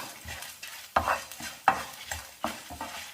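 Fenugreek and spices roast in a dry pan while a spoon scrapes and stirs them in about half a dozen rhythmic strokes over a faint crackle, close by and with no voices.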